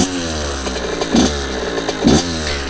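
A small Kawasaki KX 80 motocross motorcycle engine runs nearby with a buzzy, steady two-stroke drone, rising in two short revs before settling back each time.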